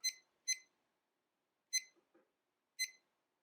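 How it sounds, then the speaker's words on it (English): An electric gooseneck kettle gives a few short, faint electronic beeps in a quiet room as its timer is started, with a soft click between them. "And let's start the timer."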